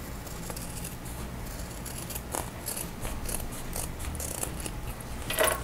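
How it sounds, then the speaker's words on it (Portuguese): Scissors cutting along the curved edge of fabric for a clutch bag, a series of close, crisp snips in an uneven rhythm over a low background hum. "Agora vamos cortar essa parte curva aqui."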